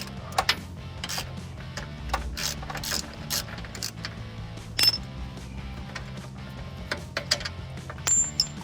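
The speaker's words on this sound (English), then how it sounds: "So now we're gonna be removing the bolt and screw from the chassis for the steering shock." A ratchet wrench clicks in quick bursts while loosening a bolt and screw from the steering shock mount on a Jeep Wrangler TJ chassis, with sharp metallic ticks and occasional clanks, close and clear with pauses between runs.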